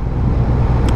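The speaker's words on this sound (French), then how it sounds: "je suis à 2500 tours à peu près en troisième" Ducati Diavel Carbon 2018 motorcycle engine rumbles steadily at about 2500 rpm in third gear on light throttle, a loud, close, continuous low drone with road noise.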